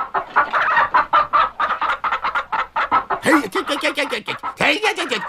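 A chicken-clucking sound effect in a Korean traditional radio drama: a dense run of loud, close clucks in a quick uneven rhythm, with sharper squawks rising in the second half.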